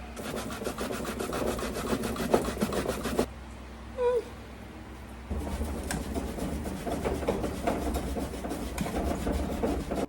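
Cocoyam rubbed against a hand grater in a home kitchen gives a steady, rhythmic rasping scrape that stops briefly midway and then resumes, close and fairly loud.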